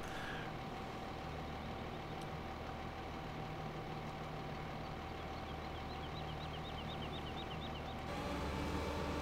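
A tractor engine in the video game Farming Simulator 15 idles as a mower unfolds, giving a steady, even mechanical drone with a faint rhythmic ticking partway through and a slight shift in tone near the end.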